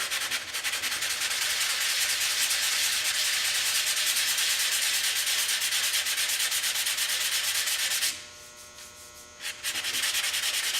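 Steady back-and-forth hand sanding with 220-grit sandpaper over a vehicle back rack before primer, close and continuous, with a brief pause near the end before the rubbing resumes.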